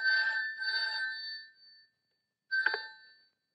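A telephone rings in a 1990 Hindi film scene: two long bell-like rings in quick succession, a pause, then a shorter third burst, clear and fairly close with no talk over it.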